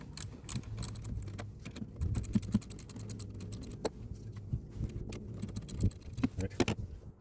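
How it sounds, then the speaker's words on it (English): A wrench works loose a tight battery terminal on a Jeep Compass, making quiet, scattered metallic clicks and taps with brief pauses between them. "it's got it kind of a little tight, so I'm just going to use my wrench"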